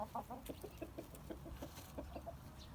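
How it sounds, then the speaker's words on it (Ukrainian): A young Bielefelder hen clucks in a quick, rhythmic series of soft, low calls, close by against a quiet farmyard background. "Ось вона молода теж курочка."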